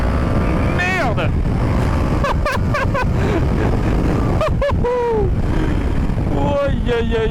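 An Indian FTR Sport motorcycle engine roars and revs in rising and falling bursts, buried in heavy wind rush on the move, with a rider's voice talking over it.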